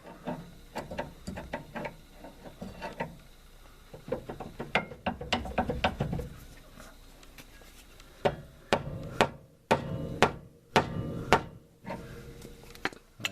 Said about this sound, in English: Use a rubber mallet on this wrench